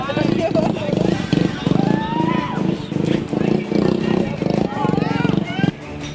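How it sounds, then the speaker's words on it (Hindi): Motorbikes spun round and round in circles by young men doing stunts during an outdoor Holi gathering, engines revving in pulsing bursts over a steady crowd babble with voices talking throughout. "बाइक को गोल गोल नचाते नौजवान"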